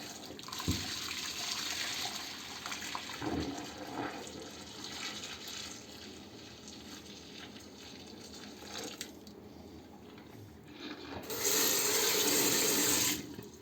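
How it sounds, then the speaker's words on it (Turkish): Hot water from cleaning a burnt kettle pours out into a sink with a continuous splashing gush that thins to a trickle, then swells into a louder rush near the end. "Bu suyu da hemen dökün arkadaşlar."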